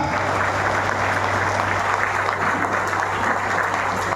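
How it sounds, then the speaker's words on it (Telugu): Sustained audience applause at a business team gathering fills the whole stretch, dense and steady clapping from a sizeable crowd with a faint low hum underneath. "సో ఇంకొకసారి అందరూ గట్టిగా క్లాప్ ఇద్దామా?"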